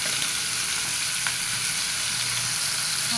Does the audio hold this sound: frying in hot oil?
yes